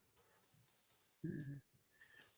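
A high, clear bell tone rings continuously, struck in a steady repeating rhythm, with a brief low thud partway through.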